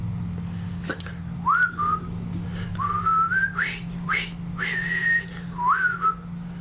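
A person whistles a melodic tune in short rising phrases, clear and close, over a steady low electrical hum.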